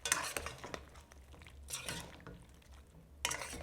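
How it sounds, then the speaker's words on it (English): Stewed chicken stirred in a cooking pot, with a few soft scraping and clinking strokes of a utensil against the pot, fairly quiet and spaced apart with pauses between. "Stir and I'll continue to cook."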